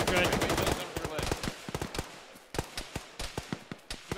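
Rapid gunfire in a ShackTac military combat game, a dense burst of overlapping shots up front thinning into sharp, evenly spaced single cracks, with voices talking over the opening.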